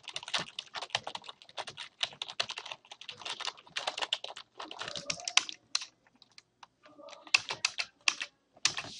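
Typing on a computer keyboard, a fast irregular stream of light key clicks with short pauses, close and fairly quiet, no talk.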